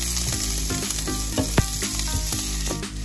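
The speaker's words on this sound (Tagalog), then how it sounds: "At habang niluluto natin ang ating bawang at sibuyas" Garlic and onion frying in a pan, a loud continuous sizzle and crackle up close, with scraping spatula strokes stirring the pan at intervals and no voices.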